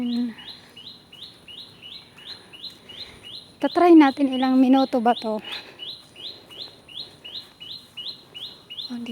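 Small birds chirping outdoors on a morning walk, repeated bright short tweets in a steady series close by, with a person talking briefly in the middle.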